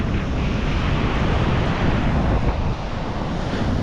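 Wind and sea waves on the coast of Sri Lanka at dawn, a loud continuous surf roar mixed with gusting wind buffeting the microphone, with no voices.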